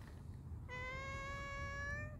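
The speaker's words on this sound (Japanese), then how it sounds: "鳴き声かわいい、ハートちゃん" A cat gives one long, clear, drawn-out meow close by, smooth and rising slightly in pitch, heard alone over a low background rumble.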